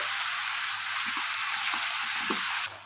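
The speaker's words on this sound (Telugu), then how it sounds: "క్యాబేజీలోనే బంగాళదుంపలు మంచి పసుపు మంచి సాల్ట్ వేసుకొని ఫ్రై చేసుకోవాలి" Cabbage and potatoes with turmeric and salt fry in a pan, giving a steady close sizzle with a few soft stirring taps, then the hiss drops away near the end.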